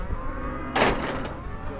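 Cattle on a farm with cows and calves, lowing in the background with a sustained low call, then a sharper, louder burst partway through before it settles back into steady herd noise.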